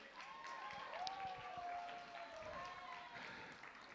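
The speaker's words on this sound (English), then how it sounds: "Give him another round of applause." An audience at a live cultural evening in Adelaide applauds after the final performance, a soft, steady patter of clapping with scattered whoops and whistles, heard from some distance.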